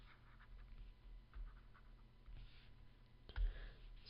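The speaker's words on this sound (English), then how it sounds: "we're going to have to erase and start over" Faint scratchy scrubbing of writing being erased in a math lesson, a few soft rubbing strokes close by with a sharper knock near the end, no talk.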